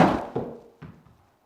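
A Titleist T150 iron catches a golf ball slightly thin, giving one sharp close thunk that decays quickly, followed by a couple of fainter knocks and then quiet.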